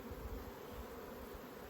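Honey bees buzzing around an open hive's honey box, a steady, dense, low droning hum close by, faint and unbroken, with no talk.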